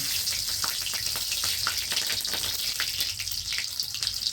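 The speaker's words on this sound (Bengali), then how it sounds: "কাঁচা লঙ্কা ফোড়ন দিয়ে একবার খেয়ে দেখো" Green chillies and black cumin crackle as a tempering in hot oil, a continuous busy sizzle with scattered pops, close and steady, no voices.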